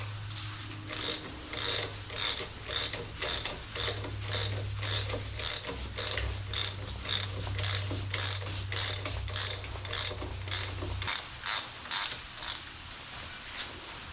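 Ratchet wrench clicking steadily as bolts are snugged down on a Minneapolis Moline 335 tractor engine during a rebuild, a rapid close ratcheting rhythm over a low steady hum that stops near the end.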